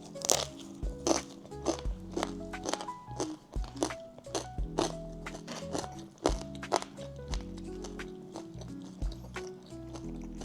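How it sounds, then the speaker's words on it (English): Repeated crisp crunching from bites of thin, crispy homemade pizza, close and fairly quiet, with irregular sharp snaps spread across the stretch. "Good crunch."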